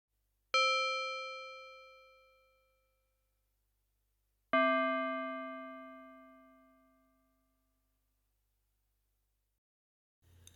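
Two struck bell tones from a Yamaha DX7 FM synthesizer, each ringing out and slowly fading, separated by a few seconds of silence.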